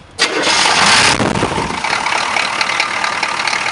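An engine with glow plugs catches after cranking and roars up loudly, then settles into a steady, rough idle close by, with no talking over it.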